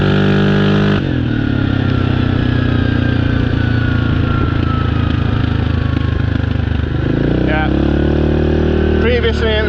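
A Yamaha Grizzly 700 ATV engine drones loudly while riding at around 32 km/h, with its pitch slowly falling and then rising again, and a few short popping bursts from the exhaust near the end.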